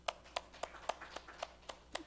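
Hands clap during a church service, about eight distinct, evenly spaced claps at a steady rhythm, fairly faint and close, with no talk over them.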